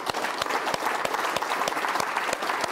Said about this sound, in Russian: это были жидкие вот такие аплодисменты